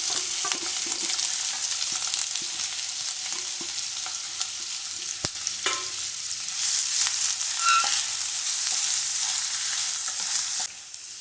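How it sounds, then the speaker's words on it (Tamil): Chopped onions and slit green chillies sauté in hot oil in a pan, a continuous bright sizzle with occasional stirring scrapes and clinks. "இது நல்லா வதங்கட்டும்."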